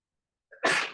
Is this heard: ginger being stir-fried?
no